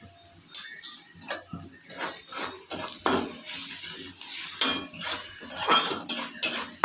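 Something frying in a pan with salt and turmeric, stirred with a metal spatula that scrapes and clinks against the pan in uneven strokes, close, with no voices.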